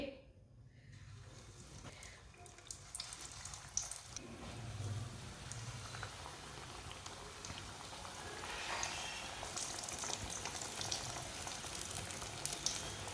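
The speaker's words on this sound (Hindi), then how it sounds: "इसे 2 मिनट के लिए फ्राई होने देते हैं" Bread tikki pieces frying in hot oil, a steady soft sizzle and crackle with light popping spread over the whole stretch, close and even without talk.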